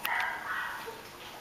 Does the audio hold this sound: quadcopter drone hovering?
no